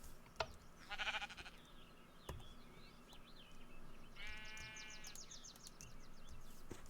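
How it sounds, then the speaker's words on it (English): Sheep bleating in the Minecraft video game, two short wavering bleats separated by a pause, with scattered game sound effects around them. "Come on, sheep, get back in there."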